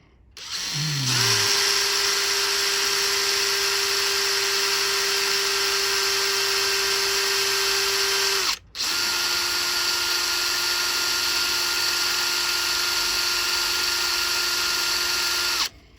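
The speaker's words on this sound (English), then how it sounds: "That'll drill that out." A power drill whines steadily and loudly while drilling out a brick hammer, pausing briefly midway before spinning up again and running on at a constant pitch.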